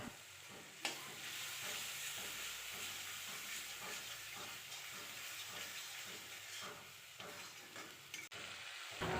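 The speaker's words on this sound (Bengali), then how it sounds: "হলুদ দিয়ে মশলাটাকে ভেজে নেব" Spice paste with turmeric frying in a pan, a steady bright sizzle and hiss with rhythmic scraping strokes of a spoon stirring every second or so, close and continuous with no talking.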